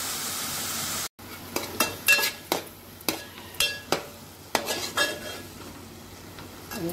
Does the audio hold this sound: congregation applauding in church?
no